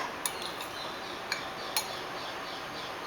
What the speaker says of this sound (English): So I am going to mix here.